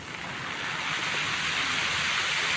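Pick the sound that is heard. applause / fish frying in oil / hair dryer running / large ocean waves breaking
large ocean waves breaking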